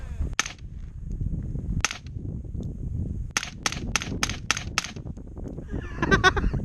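An AR-15 fitted with a CMMG .22 conversion kit fires a series of sharp, close rifle shots: a single crack, another, then a quick run of five or six evenly spaced reports and a final cluster, with outdoor wind noise between.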